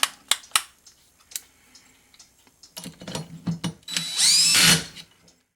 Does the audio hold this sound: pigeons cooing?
no